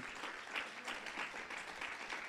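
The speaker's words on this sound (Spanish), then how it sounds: "Debe un aplauso al Espíritu Santo." A church congregation at a Friday service claps together, faint and somewhat distant, a soft, continuous patter of many hands lasting a couple of seconds without speech.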